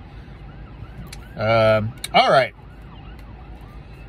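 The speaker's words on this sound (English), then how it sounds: "Sorry, you might hear some sirens." Ambulance sirens wail outside, faint and wavering in the background, with a person speaking close by during two brief loud bursts.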